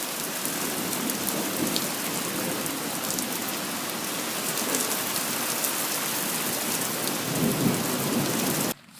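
Steady, dense rain drums on a Tarptent Squall 2 tent fabric, loud and close, with a continuous hiss and patter throughout and no voices.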